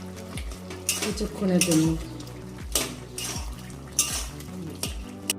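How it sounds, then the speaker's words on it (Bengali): Bottle gourd being sautéed and stirred in a pan for lau chingri, with repeated metallic scrapes and clanks of a spatula against the pan over a light sizzle, while a voice speaks briefly. "এবার লাউটাকে কষিয়ে নেব"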